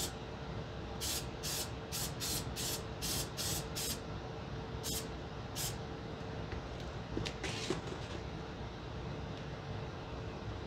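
Short hissing bursts of aerosol adhesive spray onto a cosplay cowl's padding, about nine quick sprays in a row, then a few more scattered ones over steady background noise.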